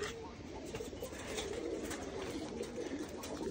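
Pure white pigeons coo softly on a rooftop farm, low throaty calls repeating over a steady outdoor background with faint voices nearby.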